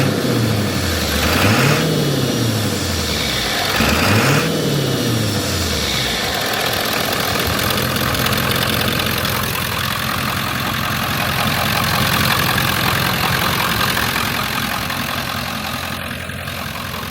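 Tuned 7.3 Powerstroke diesel with a turbo and straight pipe, revved twice to roughly 2,500–3,000 RPM: each rev rises and falls in a loud swoop, then the engine settles into a rough, steady idle.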